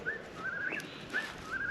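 A single bird calls repeatedly at a campsite in the morning, giving a series of rising whistled notes in a steady rhythm, fairly close and clear against quiet background noise.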